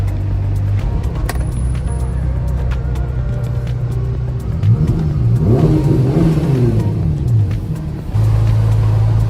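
Close and loud, a 2021 Ferrari Roma's 3.9-litre twin-turbo V8 idles steadily, then blips through several quick revs that rise and fall before settling back to a firm idle.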